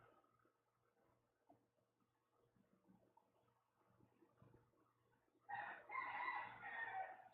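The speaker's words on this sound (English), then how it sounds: "Maybe you can hear the rooster going in the background." A rooster crows loudly near the end, a long drawn-out call rising out of quiet outdoor ambience after several seconds of low background murmur.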